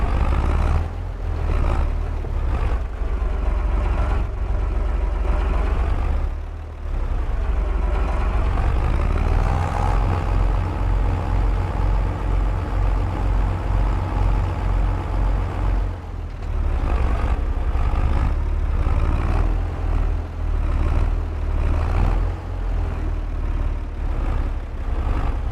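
A tractor engine in Farming Simulator 25 runs steadily with a deep, throbbing low rumble, its pitch rising and falling slightly as it works a field, loud and alone.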